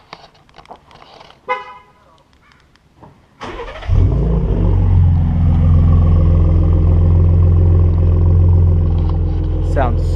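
A 2017 Shelby Baja Raptor truck engine cold-starts after a few quiet clicks, catching with a sharp loud roar that settles into a deep, steady, rumbling idle.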